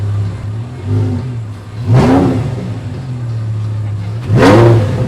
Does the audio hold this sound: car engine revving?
yes